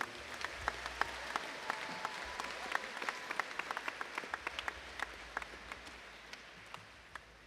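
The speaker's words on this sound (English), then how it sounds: "can we just get one more round of applause for all these haumana over here?" Audience applause for student performers (haumana) at the ʻAha Mele Hawaiian music event, a steady sustained clapping from a sizable crowd lasting throughout, with sharp individual claps standing out near the listener.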